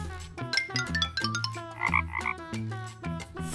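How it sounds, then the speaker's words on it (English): A cartoon frog croaks in a children's animal alphabet song, several rhythmic croaks over a bouncy melodic backing, loud and close. "Frog."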